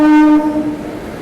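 KSR Bengaluru Rajdhani Express passing on the Shiradi Ghat, Karnataka, with a loud sustained train horn blast at first that fades into steady rolling rail noise.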